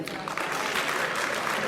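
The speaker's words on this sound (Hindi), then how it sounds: "साइम आफ्ताब के लिए भरपूर तालियां।" Audience applause for a woman poet performing Urdu poetry at a mushaira, a dense, steady clapping from a crowd that fills the short moment without pause.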